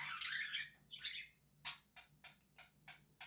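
A pet budgie squawks loudly at first, then gives a run of short, sharp chirps in an irregular rhythm, close by in a quiet room.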